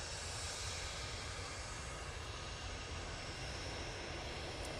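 An Aer Lingus A320 arriving at Manchester Airport, a steady broad engine roar at moderate distance that holds evenly throughout, with no talk.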